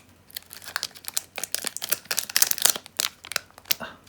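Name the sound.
tearing open a Magic card booster pack wrapper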